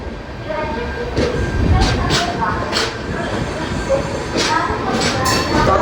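A train rumbles steadily at Thiruvananthapuram Central railway station, where the LHB-coached Aronai Express to Silchar stands. Loud, continuous rolling noise with brief brighter surges of clatter, and someone talking over it.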